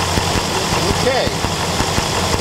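A Ford inboard engine in a ski boat idles steadily right after a distributor adjustment, a close, even low throb and rumble that runs without a break, with a voice briefly audible over it.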